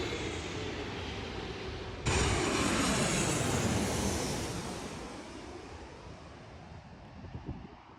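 Jet aircraft flying low near LAX airport, heavies and narrow-body planes overhead, a loud roaring rush that swells abruptly and slowly fades away, with no talking.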